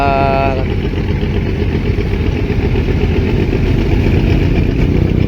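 Small tugboat engine running steadily on the Pasig River, a continuous low mid-pitched chugging drone heard close and fairly loud throughout.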